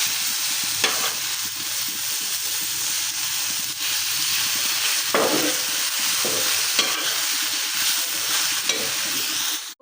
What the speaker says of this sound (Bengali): তো আমার শাক ভাজাটা হয়ে আসছে